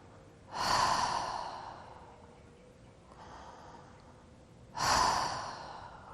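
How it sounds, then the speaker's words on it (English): Deep open-mouthed breaths during a yoga session, two loud breathy exhales about four seconds apart with a softer breath between them, close and with no talk. "Keep on breathing deep into the belly with the mouth open."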